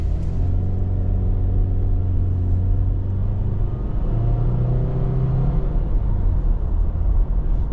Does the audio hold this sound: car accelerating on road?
yes